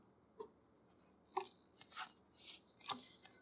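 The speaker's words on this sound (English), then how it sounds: "And let's just shuffle through these." Bicycle playing cards, including themed decks, are shuffled and flicked through by hand, giving soft, irregular papery riffles and slides that grow busier toward the end, close and fairly quiet.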